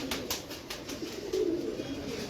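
A hobbyist's pigeons, being readied for shipment to Bangladesh, coo in low soft bursts nearby, with faint tapping and shuffling in the background and no speech.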